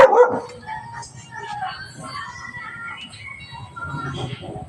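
A dog barks a few times close by, with some voices and background noise mixed in.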